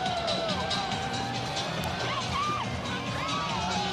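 Students cheer in a steady, dense crowd roar at a Central Michigan Chippewas college football game against Ohio on a Thursday evening in Mount Pleasant, Michigan, with scattered whoops and shouts rising over the din.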